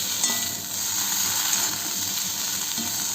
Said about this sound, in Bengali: আলুটা ওখানে ভাজতে থাকুক, আলু আর কপি।